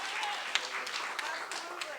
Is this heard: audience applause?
yes